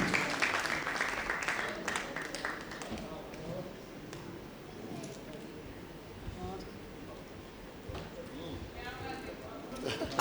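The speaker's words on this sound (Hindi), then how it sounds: "ज़ोरदार तालियों से इस्तकबाल करें" An audience at a mushaira, an Urdu poetry gathering, claps together in a soft, crackling round of applause that swells early and then thins to a scattered patter, with faint voices in the background.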